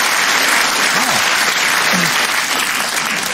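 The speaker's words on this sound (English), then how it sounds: "A round of applause for a Fritzl joke." A comedy club audience applauds after a stand-up joke, dense continuous clapping at close range that fills the whole stretch, with a faint voice briefly audible.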